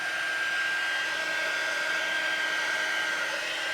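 A heat tool blows hot air onto baby wipes, a steady, continuous whooshing whine with a fixed high tone, close and loud with no talk.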